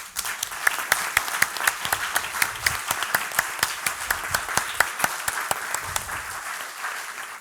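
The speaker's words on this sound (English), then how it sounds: "they all deserve a very warm applause" A conference audience in Stockholm applauds warmly at the closing session, a dense, even clapping from many hands that continues for several seconds before beginning to thin out.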